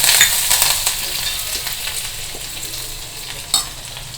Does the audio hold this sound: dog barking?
no